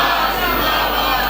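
Crowd at a religious gathering chanting slogans together, a dense, steady roar of many voices filling the space loudly for a short burst.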